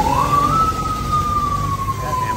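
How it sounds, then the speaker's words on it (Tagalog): An ambulance siren passes with a loud, steady wail that slowly slides down in pitch, heard over low street background noise. "may ambulansya na naman"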